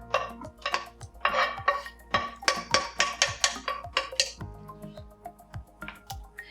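Shrimp dropped one by one into a pan of creamy red pepper sauce with garlic, giving a quick run of close, bright clinks and taps against the pan, a dozen or so in steady rhythm, then quieter sizzle-like settling.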